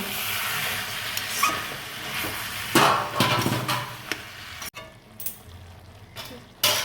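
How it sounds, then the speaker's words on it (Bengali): Banana flower being stirred with prawns in a pan, a continuous sizzle with scraping spoon strokes and a few louder clanks against the pan, no talking. "এবার মোচাগুলো দিয়ে দেবো সব এইভাবে করে সব মোচা দিয়ে এবার নেড়ে চেড়ে নেব"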